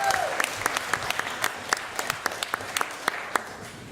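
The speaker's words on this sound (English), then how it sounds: "Round of applause for Jen." Wedding guests applaud Jen during the speeches: a soft, fairly distant patter of claps, with a few sharper individual claps standing out from the steady background.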